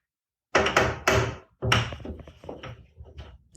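A bedroom door at night produces several knocking or thudding impacts of varying strength in quick succession, fairly close and alone with no talk.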